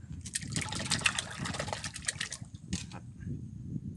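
Water is slapped and splashed to lure fish while fishing, giving a busy run of quick, close splashes and trickles that pauses briefly and then returns in one more splash.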